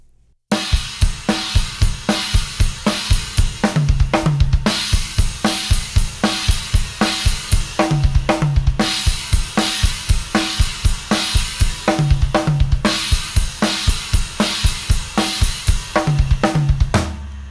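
A drum kit plays a repeating groove in 4/4, with a sticking pattern grouped in threes worked into the bar. Kick, snare and cymbals hit steadily, close and loud, for the whole stretch without any talking.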